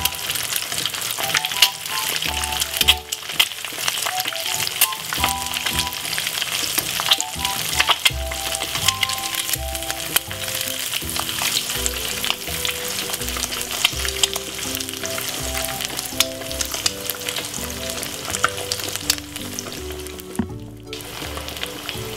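Egg frying in a pan alongside bacon for a breakfast sandwich, a steady close sizzle with crackles and pops throughout, plus occasional clinks of a utensil and pan.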